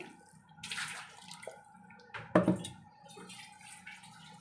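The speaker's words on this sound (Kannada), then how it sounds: "ಇದು ಮಿಕ್ಸಿ ತೊಳೆದಿದ್ದೀನಲ್ವ ಈ ನೀರು ಮಾತ್ರ ಇದಕ್ಕೆ ಸ್ವಲ್ಪ ಹಾಕ್ತೀನಿ" Water left from rinsing a mixer jar is poured into a brinjal gravy in oil, giving a brief splashing pour with a few drips and trickles at close range and no speech.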